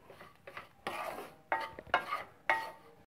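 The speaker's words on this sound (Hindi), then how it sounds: "अच्छे से मिक्स कर लूंगी और 2 मिनट इसे स्टीम दे दूंगी।" Several separate scraping, clinking strokes of a spoon stirring garam masala into apple gourd (tinda) stuffing in a pan, close and fairly quiet, with short pauses between them and no talking.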